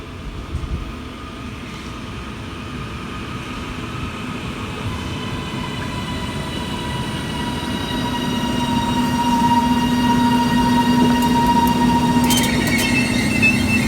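A train rumbles and builds in loudness as it pulls in, with metallic wheel squeals and tonal hums rising over steady rail noise.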